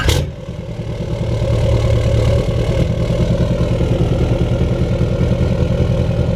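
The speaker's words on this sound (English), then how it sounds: "Sounds really good. Got the exhaust on now." A 2019 L5P Duramax diesel pickup idles with a 5-inch downpipe-back exhaust, a steady deep rumble with a low drone that holds even and close for several seconds after a brief start.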